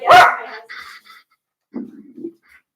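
A dog barks loudly and close once, then gives a few shorter yips and a low whimpering grumble that fades out, with no voices over it.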